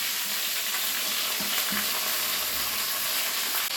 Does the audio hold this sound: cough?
no